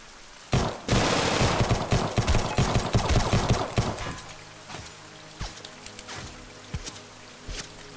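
Handgun gunfire in the Caedes VR video game: a rapid, loud burst of overlapping shots over roughly three seconds, then a few scattered single shots and impacts spaced out afterward.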